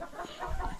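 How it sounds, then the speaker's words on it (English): A young rooster on a small farm gives a brief, low, throaty cluck, close to the microphone and lasting under a second, with no voices over it. "Now look at a new rooster here."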